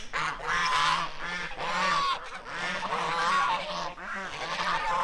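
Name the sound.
geese honking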